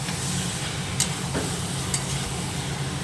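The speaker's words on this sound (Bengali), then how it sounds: "এবার আমি আবার মাছগুলোকে দিয়ে ভালো করে নেড়ে নেবো মশলার সাথে" Fish being stirred with salt and spices in a hot frying pan for a Bombay duck (lote fish) dry dish, a steady close sizzle with a couple of brief scraping clinks from the spoon.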